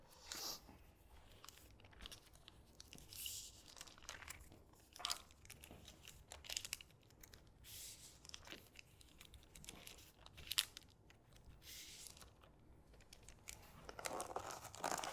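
A paper banner for football-themed table decor is folded concertina-style, giving soft, close crinkling and crumpling with intermittent sharper creases and rustles, steady throughout with no talking.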